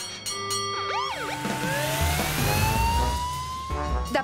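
A cartoon fire engine siren from Curious George wails with swooping, rising and falling tones over a low engine rumble, loud and steady throughout.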